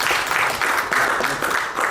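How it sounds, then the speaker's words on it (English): Applause from an audience at a leadership conference session, a short burst of many hands clapping at moderate level, slightly uneven in intensity. "Give a big round of applause"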